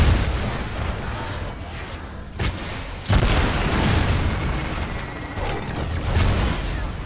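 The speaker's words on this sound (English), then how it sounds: "If I'm going to use this rocket launcher on McBiggins." A rocket launcher fires and its rockets explode in the first-person shooter Hard Reset, heavy booming blasts over a dense, rumbling game soundscape with a sharp crack near the middle and further explosions after it.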